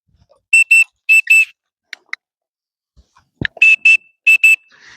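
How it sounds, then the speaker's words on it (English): A dog training whistle sounds in short paired beeps, two quick pairs, then a pause with faint handling noises, then two more pairs, loud and close, for a puppy's recall. "I'm also giving this signal to associate the whistle signal"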